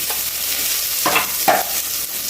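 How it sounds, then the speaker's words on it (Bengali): Eggplant pieces with salt and turmeric fry in hot oil, a steady close sizzle broken by two or three spatula stirs scraping the pan. "লবণ আর হলুদ দিয়ে বেগুনগুলোকে আগে আমি লালচে করে ভেজে নেব"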